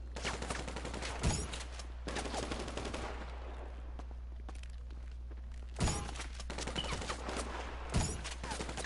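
Gunfire in the video game GTA, with dense bursts of rapid shots running almost the whole time and a few louder sharp cracks standing out. No one speaks.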